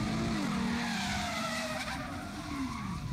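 Car spinning out while street drifting at a local car show, tires squealing in long wavering screeches over a revving engine, loud and continuous, with no voices.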